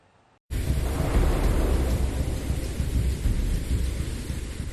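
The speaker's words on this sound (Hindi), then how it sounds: "हफ्ते भर से जारी मूसलाधार बारिश थमने का नाम नहीं ले रही" Heavy monsoon rain pours down in the Uttarakhand hills, a dense loud roar starting abruptly after a moment of quiet, with low rumbling thunder blended into the steady downpour.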